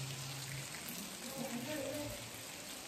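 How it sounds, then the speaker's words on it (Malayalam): Steady rain falls with a dense, even hiss of drops spattering on surfaces, continuous and moderately loud, outdoors where people gather for a birthday celebration. "മഴയാണ്. അപ്പൊ കുറച്ച് സൗണ്ട് പ്രശ്നം ഉണ്ടാവും."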